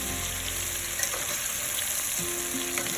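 Potatoes pan-frying in plenty of fat give a steady, close crackling sizzle that runs without pause, with a faint low hum underneath.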